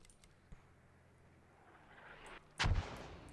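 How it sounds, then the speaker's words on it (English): Distant Russian mortar fire in a military video game is heard as a soft early thump, a low rumble that slowly builds, and then a louder, deeper boom near the end. "Mortars going down. Yeah, I think that should be Russian Mortars."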